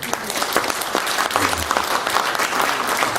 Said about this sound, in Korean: 큰 감사와 격려의 박수 한번 부탁드리겠습니다